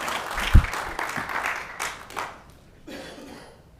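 Brief scattered applause at a city committee meeting, a sharp burst of clapping that fades into murmurs and light chuckles from the room, with some voices underneath.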